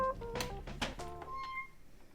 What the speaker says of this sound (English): He got a cat piano.